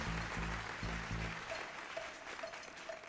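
An audience at the iNews Maker Awards 2022 ceremony applauds as a guest is called up on stage. The clapping is steady and fairly full, mixed with a low hum and faint tones.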